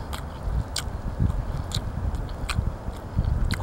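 Someone outdoors bites into an onion pancake and chews it up close, a run of soft crisp bites and moist crunchy chewing at a quiet level, with light wind noise behind and no talking.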